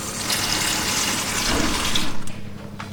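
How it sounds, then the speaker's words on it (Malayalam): Half a kilo of pasta tipped into a pot of rapidly boiling water on the stove, giving a steady rushing, bubbling wash of water that surges briefly and then settles quieter near the end. "നമുക്ക് ഇതിലേക്ക് പാസ്ത ഇട്ട് കൊടുക്കാം"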